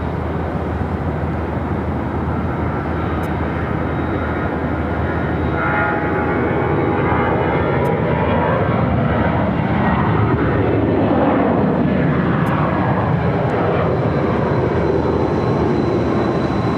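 An Allegiant Airbus A320 jet rolls down the runway on its takeoff run at Phoenix airport, a loud, continuous engine roar that stays near and steady throughout.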